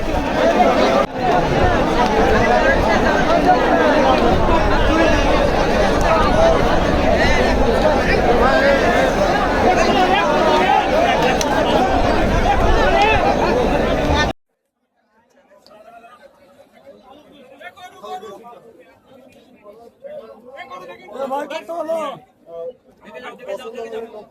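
Dense crowd chatter at the traditional Mahasthan cow and goat market held for Qurbani, a loud continuous babble of many voices for about fourteen seconds, then an abrupt cut to quieter scattered talk.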